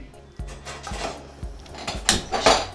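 A pan is set on a kitchen stove amid a string of close metallic knocks and clatters of cookware and utensils, with no talk.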